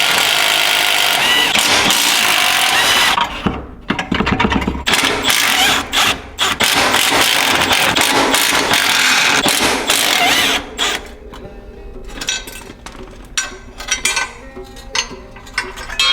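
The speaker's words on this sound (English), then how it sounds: "we're gonna go with a 15 to knock that off, and then a 13 to get the whole back plate off" A socket wrench fitted with 15 and 13 mm sockets loosens bolts on a back plate, giving loud, rapid ratcheting clicks that run in bursts close to the mic, then become sparser taps and clicks.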